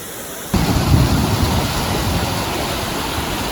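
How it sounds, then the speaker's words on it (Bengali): A waterfall at Ghatsila roars in a dense, steady rush of falling water that comes in abruptly after a brief quieter moment and then holds loud and constant, with no voices. "দুর্দান্ত লাগছে এখান থেকে ঝর্ণাটা"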